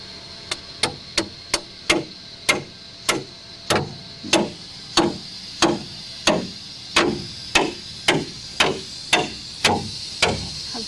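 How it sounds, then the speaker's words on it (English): A two-foot section of rebar is hammered into a pre-drilled hole at an inground pool construction site, with about twenty sharp, evenly spaced metallic blows ringing out close and loud in a steady rhythm. "You got a 2-foot section of rebar there, just drive it in."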